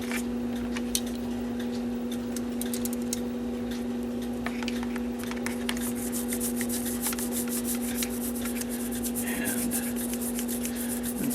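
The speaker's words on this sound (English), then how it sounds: "And we will just do some scrubbing." Scrubbing a cuckoo clock plate by hand to take off dirt and oil, a close, continuous brushing rasp with light ticking strokes over a steady hum from the workshop.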